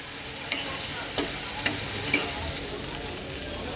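Prawns and vegetables sauté in a pan, a soft, steady sizzle broken by a few light scrapes and taps from stirring, heard close and alone.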